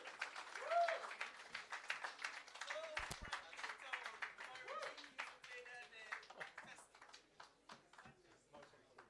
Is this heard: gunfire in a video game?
no